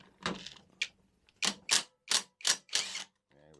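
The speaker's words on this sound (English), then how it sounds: "I'm going to use the impact gun again" An impact gun removing an engine nut on a 1976 NVT Easy Rider ER1 motorcycle, six or seven short, sharp rattling bursts in quick succession, close and loud, with brief gaps between them.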